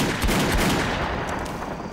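A mounted machine gun in Left 4 Dead 2 fires in a dense, continuous burst, loud and close, with rapid shots blurring into a sustained rattle.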